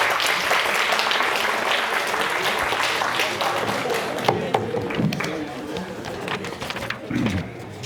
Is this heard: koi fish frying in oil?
no